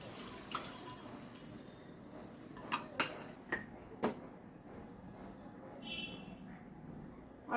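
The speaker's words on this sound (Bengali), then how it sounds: "বাটিটা ধুয়ে আমি একটু জল দেবো" A bowl being washed in a home kitchen, then water added: a few faint, scattered clinks and knocks over a low trickle of running water.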